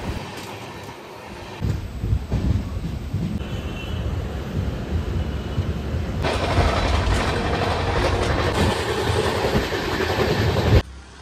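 The 12337 Shantiniketan Express rumbles along the track out of Kolkata, a continuous close roar of wheels and wind that grows louder partway through and ends with a sharp knock; no voices.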